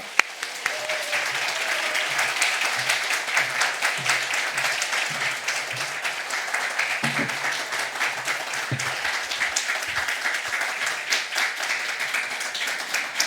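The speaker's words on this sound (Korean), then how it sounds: "우리 박수로 환영하도록 하겠습니다" Sustained applause from a church congregation at a Sunday service, welcoming a visiting pastor; steady dense clapping fills the room for over ten seconds with a few faint voices underneath.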